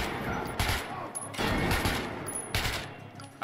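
Gunfire in the video game Metro: Last Light, with a few sharp shots at around 0.6, 1.4 and 2.6 seconds over a constant noisy game background.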